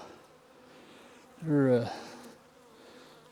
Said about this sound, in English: buzzing pretty good there, especially around that camera